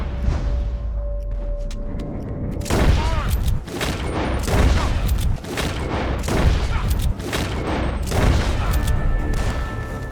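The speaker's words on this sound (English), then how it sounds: "The gunshots are coming from that..." Repeated gunfire in a Red Dead Redemption 2 shootout, a dense run of loud, sharp shots and booms over about ten seconds with steady game ambience underneath.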